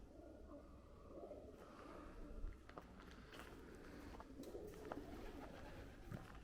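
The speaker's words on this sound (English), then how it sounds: "If you like the sound of pigeons and seagulls, I've spoilt you today." Pigeons coo softly inside an abandoned historic rail works, low rounded calls repeating over a quiet, echoing background with a few faint sharper bird cries and occasional scuffs, all fairly distant and gentle.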